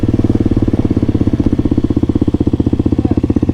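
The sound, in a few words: SSR 170 pit bike engine riding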